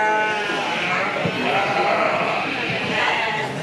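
Merino yearling ewes bleat in a dense, continuous chorus at a showcase sale ring, with a murmur of people talking underneath.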